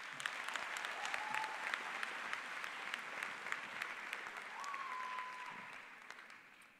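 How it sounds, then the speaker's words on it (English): Graduates and guests applauding at a 2023 charter school graduation ceremony, a sustained, moderately distant crowd of clapping hands that slowly tapers off, with faint voices mixed in. "Give yourselves a round of applause."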